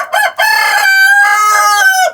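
A Black Copper Marans rooster crows loudly and close by, one drawn-out cock-a-doodle-doo preceded by a short clucking burst.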